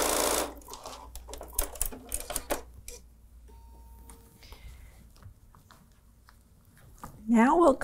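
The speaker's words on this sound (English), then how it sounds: "And we'll sew a quarter inch on the other side." A sewing machine stitches quilt fabric in quick rattling bursts at the start, then goes quiet, with soft handling noises and a person beginning to talk at the end.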